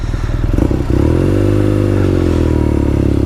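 A 2020 BMW R Nine T Scrambler motorcycle engine idling close and loud, with a lumpy, uneven rumble that settles into a steady, throbbing drone after a brief clattering start.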